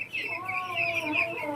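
Young Colombian Brahma chickens at a farm cluck and chatter in a run of close, overlapping, warbling calls at moderate loudness.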